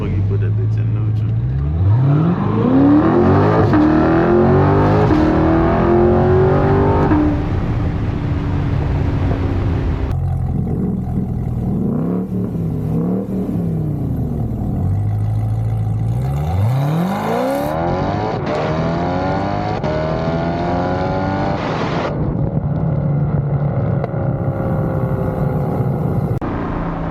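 A 600 hp Corvette engine revving in neutral, deep roaring sweeps that climb and fall repeatedly, loud and close inside the car with a voice heard over it.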